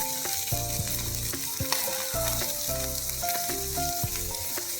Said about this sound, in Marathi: मस्त कुरकुरीत आपल्याला फ्राय करायचे आहेत